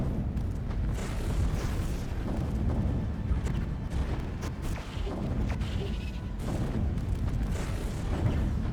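Neutron launcher weapons firing during a large fleet battle against a citadel in Stellaris, a dense, continuous rumble of overlapping booms and blasts with no clear gaps, steady and fairly loud throughout.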